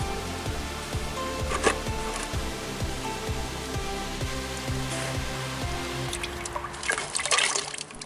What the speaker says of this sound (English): It's gonna make a mess, so again you need a bucket or something to collect the oil that's going to leak out of the plastic cap.